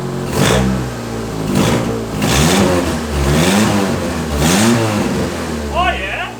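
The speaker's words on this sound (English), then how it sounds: "I'll give it a few revs for you guys." An old turbocharged Mitsubishi Lancer engine revs up repeatedly in several sharp bursts, each climbing and falling back to idle, close and loud.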